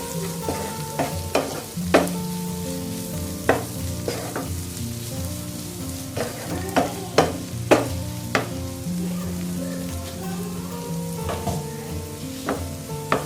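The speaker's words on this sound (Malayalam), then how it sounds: "ജസ്റ്റ് ഒന്ന് ഇളക്കി കൊടുക്കാം." Spice powders being stirred in a hot pan for an okra fry, with soft sizzling and repeated scraping clicks of a spoon against the pan, close and fairly even, no talking.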